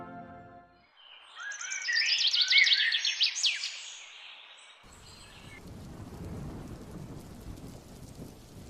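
Rain falls at night, a steady close wash filling the second half, after a loud burst of bright, chirping, bird-like calls with a possible thunder rumble; no one speaks.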